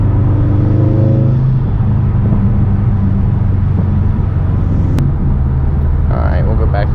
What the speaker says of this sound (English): I just want you guys to be able to hear the car